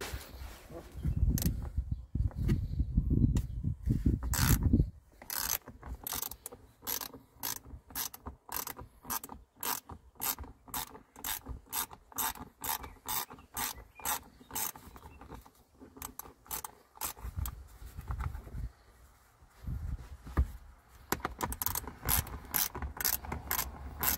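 A ratchet works a bolt loose from a Toyota FJ Cruiser armrest, with a rapid run of sharp metallic clicks in quick steady strokes, pausing and resuming, close and fairly loud.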